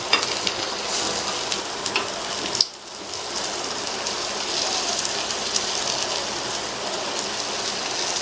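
Paniyaram fry in the wells of a hot pan after turning, giving a dense, even, rain-like crackle close by. A sharp clack near the start briefly interrupts it before the sizzle resumes steadily, with no talk.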